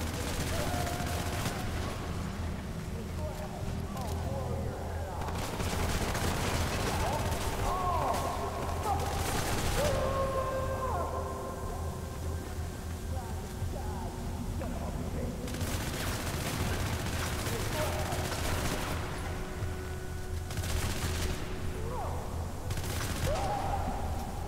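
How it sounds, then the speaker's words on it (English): Gunfire and explosions in the violent shooter video game Hatred, with repeated bursts of rapid shots and booming blasts coming in clusters over about twenty-five seconds, loud and close, while someone comments intermittently. "There we go! Explosions!"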